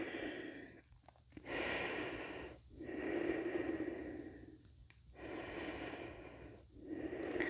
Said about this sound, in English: Take just one more cycle of breath.